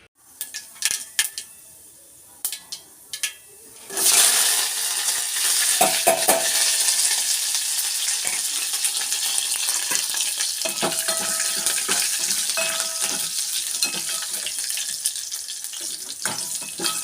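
Tempering for mango dal begins with a few scattered clinks and taps, then oil and spices burst into a loud, sustained sizzle that crackles on with occasional stirring clatter against the pan.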